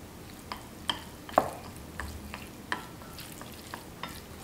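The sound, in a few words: stirring chopped glass noodles with soy sauce and oil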